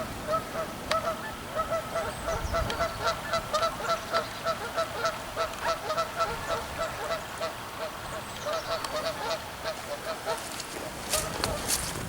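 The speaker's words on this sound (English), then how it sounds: "Ducks and geese and stuff." Geese honk at Lleweni Hall in a steady run of repeated calls, a fairly close flock, with louder, busier honking toward the end.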